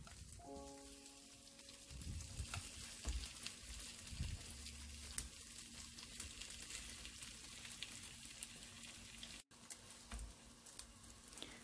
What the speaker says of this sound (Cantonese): 年糕咧唔使心急，慢火細煎。